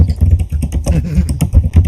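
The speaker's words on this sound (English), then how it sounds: "Good thing I love the sound of typing." Fast, furious typing on a crappy old computer keyboard, a dense run of close, uneven key clacks with a low rumbling hum beneath.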